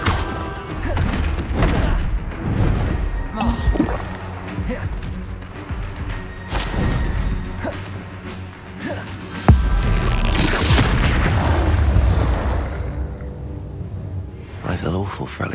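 Confringo spell blasts boom and crash in the Hogwarts Legacy video game during a fight with a troll near a hamlet, heavy explosive thuds mixed with game effects and voices.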